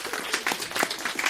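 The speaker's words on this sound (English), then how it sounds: "for that you get claps" An audience claps at a live podcast show, a brief dense burst of applause from a crowd that rises and falls and fills the room, with no talking over it.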